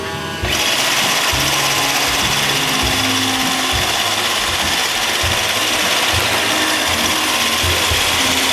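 An iRobot Roomba 551 robot vacuum with AeroVac runs straight across the floor, giving a loud, steady mechanical whir with a ratcheting, gear-like clatter from its brushes that continues throughout, close up and with no talking.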